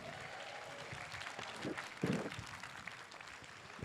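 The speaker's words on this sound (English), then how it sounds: "One more time, ladies and gentlemen, nice round of applause for Daryl Aquino." An audience at a slack-key guitar festival gives a modest round of applause, a soft, distant patter of clapping with a couple of brief louder bumps.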